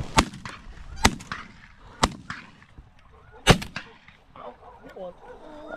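Shotguns fire during a waterfowl hunt, four sharp loud blasts spaced about a second apart, with geese honking around them and a faint voice in the background.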